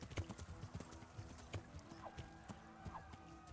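Horse hooves clip-clopping in the medieval video game Kingdom Come Deliverance, a steady walking rhythm of soft, faint hoof thuds with a couple of brief whinny-like sounds, no talk over them.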